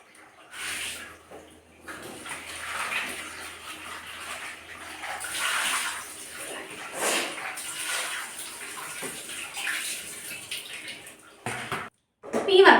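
Pieces of shark fish are rinsed in a vessel of water, with sloshing and splashing that rise and fall under intermittent talking nearby.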